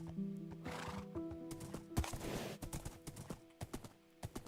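A horse in the Gregtech New Horizons modded Minecraft game gives a loud whinny near the start, then clip-clopping hooves and more snorts and neighs follow in an irregular run, with no talking.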